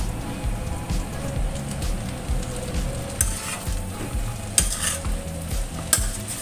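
Steady sizzling of Indonesian fried noodles (mie goreng) in a hot pan over high heat, with scraping and clattering of a utensil stirring through them, a few sharper clanks standing out.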